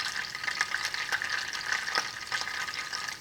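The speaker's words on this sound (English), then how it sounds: "So it's bubbling up. It's gonna come to a bigger bubble and foam up" Eggplant Parmesan sauce bubbling and frying in a pan, a steady close crackling sizzle with popping bubbles and small bursts running throughout, with no talk over it.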